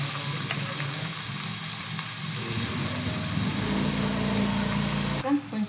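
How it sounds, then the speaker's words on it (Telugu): Onions frying in a pan as the first step of a chicken curry give a steady, close sizzle throughout, with a voice talking over it. "ఆనియన్స్ ఫ్రై చేసుకోవచ్చు ఫస్ట్ అయితే"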